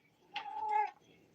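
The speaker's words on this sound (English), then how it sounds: "Meow." A female pet cat lets out one loud, drawn-out meow at close range, rising and then falling away, with near silence on either side.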